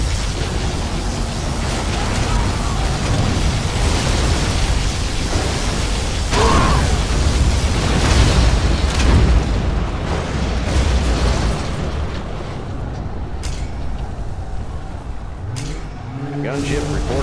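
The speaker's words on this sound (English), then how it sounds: "Our scud storm has been launched." Scud Storm missile launch and heavy explosions in Command & Conquer Generals Zero Hour, a dense, continuous roar of blasts and rumble lasting throughout, loud and close, with game voice announcements mixed in.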